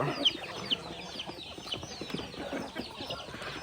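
Local free-range chickens cluck and call at close range outdoors, with two sharper squawks near the start and steady low clucking throughout.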